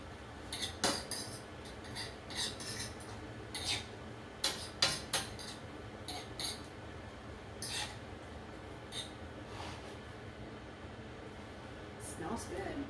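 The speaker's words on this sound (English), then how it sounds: "we're just going to mix it around and just brown it like we would the normal ground beef" Cauliflower mince being stirred and browned in a pan, scattered metallic clinks and scrapes of a utensil against the pan at irregular intervals over a quiet hum.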